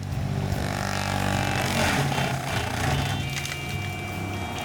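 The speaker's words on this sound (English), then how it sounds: "Watch as it cuts this 16-inch cedar." Typhoon clearing mower on a skid steer cutting through a 16-inch cedar: a loud, continuous engine drone with grinding, chewing noise from the rotating cutter, steady throughout and close.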